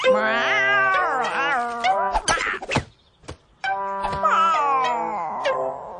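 A cartoon cat meows and caterwauls loudly in long, wavering, pitch-sliding cries, broken by a few thumps and a short silence before the yowling resumes.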